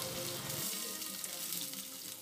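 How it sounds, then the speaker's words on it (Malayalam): Ginger, garlic, shallots and green chilies sizzling in hot coconut oil, a close, steady, even hiss that holds for the whole short stretch with no voices. "ഇതിലോട്ട് അരിഞ്ഞു വെച്ചേക്കുന്ന ഇഞ്ചിയും വെളുത്തുള്ളിയും ചുവന്നുള്ളിയും പച്ചമുളകും ചേർത്ത് കൊടുക്കാം"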